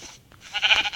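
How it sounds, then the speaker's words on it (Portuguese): A sheep in a survival video game gives one short, nasal bleat, close and fairly loud, rising out of near silence. "primeiro eu vou atrás de uma ovelha."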